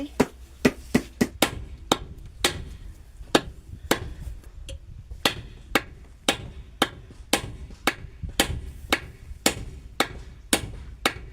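Repeated hammer blows from a village worker driving pieces into place, a steady series of sharp, fairly close strikes about one per half second, each ringing briefly, with low background rumble and no talk.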